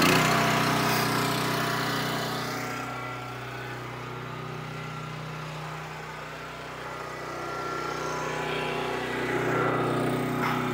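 Warmed-up engine of a 28 Pro log splitter running at a steady idle, a continuous close drone that swells slightly and eases off.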